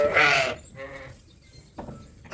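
Sheep bleating on a farm during culling and ewe checks, a loud close bleat opening the clip, a quieter one midway and another starting at the very end, alone without talk.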